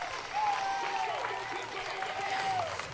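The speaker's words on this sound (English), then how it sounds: "she's going to get a nice round of applause for the Spark faithful" A crowd applauds at a home run derby, a steady wash of clapping and cheering held at moderate volume while a voice talks over it.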